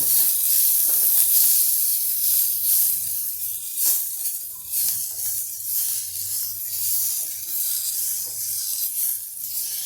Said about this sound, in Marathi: हिरव्या मिरचीचा ठेचा आणि हे वाटाणे तर आपण छानपैकी हे परतून घेऊ